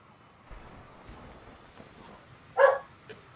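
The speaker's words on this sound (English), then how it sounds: "The dog's motivating me." A single short dog bark rings out near the end, fairly close and louder than the faint background of a Harry Potter: Quidditch Champions gaming session.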